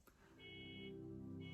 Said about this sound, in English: a car alarm is going off, and that's throwing off my mojo